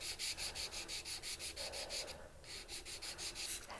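Steady back-and-forth sanding on the end of a textured fold-over silver ring, a rhythmic rasping scratch repeating about four times a second, close and fairly quiet with no talking.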